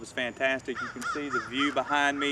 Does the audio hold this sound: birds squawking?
yes